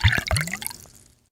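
EH Taylor Small Batch bourbon poured into a glass, a few quick liquid splashes and drips close up, fading to quiet within about a second.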